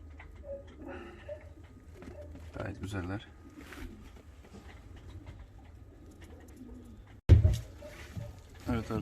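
Fancy show pigeons at a pigeon show cooing in soft, throaty bursts close by, heard beneath someone talking, with a sudden loud knock or handling noise near the end.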